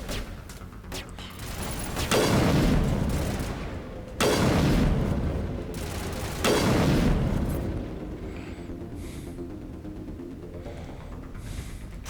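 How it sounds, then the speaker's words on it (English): Gunfire and explosive booms in the video game Mass Effect, three heavy bursts a couple of seconds apart over a rumbling mechanical background, then a quieter hum. "What are you shooting at?"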